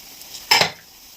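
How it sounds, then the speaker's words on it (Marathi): A brief, sharp hiss as a coconut and coriander tempering hits hot mutton curry in a pan, one quick burst fading out within a fraction of a second. "तर मी फोडणी टाकते"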